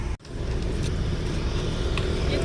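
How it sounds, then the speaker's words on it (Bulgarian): Steady low rumble of a sleeper bus travelling at night on a road in Vietnam, a continuous engine and road drone heard from inside the cabin after a brief dip at the start. "Слипър бус."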